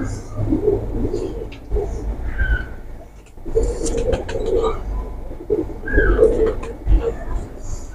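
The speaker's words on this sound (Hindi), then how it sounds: "ये बुलेट कबूतर है" A bullet pigeon coos in a repeated series of low, rolling calls, close by, with brief pauses between phrases and faint background sounds.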